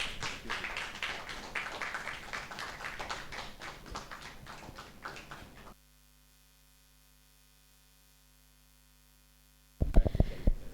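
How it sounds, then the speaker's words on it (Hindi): An audience applauds for Dr. Vikram Chauhan at a televised health show, with dense, rapid clapping for several seconds. The clapping stops in sudden silence, then a short burst of sound follows. "एक बार जोरदार तालियां हो जाए प्लीज डॉक्टर साहब के लिए"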